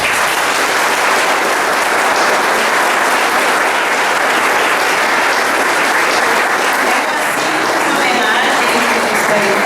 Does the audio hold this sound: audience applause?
yes